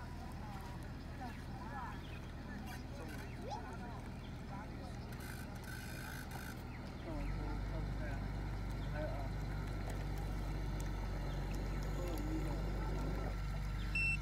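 A steady motor hum with faint mechanical whirring, growing louder and fuller halfway through as a small remote-controlled bait boat powers back to its home point, no voices.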